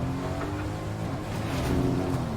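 Steady in-game car engine hum from Fortnite, a continuous low drone with mild revving swells, held at an even level throughout with no voices.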